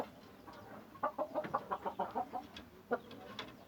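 A tall, heavy-bodied purebred Aseel rooster gives a faint run of rapid clucks over a low background hum, followed by a couple of isolated later calls.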